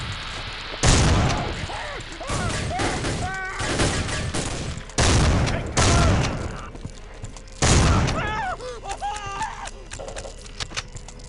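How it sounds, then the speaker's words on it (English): Grenade blasts and gunfire in Soldier of Fortune II, several heavy booming explosions spaced a few seconds apart with bursts of shots and shouting voices between them. "Yep, they throw back grenades."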